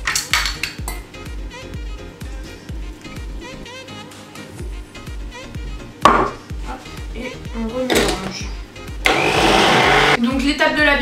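Waffle batter with a pinch of salt and a splash of beer being stirred in a bowl, with busy clinks and scraping of utensils, a brief whirring burst near the end, and music playing underneath.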